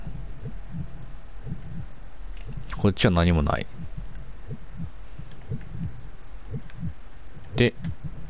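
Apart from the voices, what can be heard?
heartbeat sound effect in a video game (The Quiet Man)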